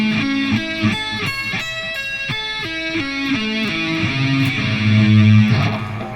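Distorted electric guitar plays a sweep-picking pattern alone: rapid arpeggiated notes climbing and descending in repeated, cleanly stepped runs, loud and close.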